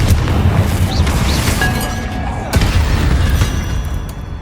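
Confringo blasting spells explode in Hogwarts Legacy, deep booming bursts with a fresh thud midway through and a low rumbling bed between them.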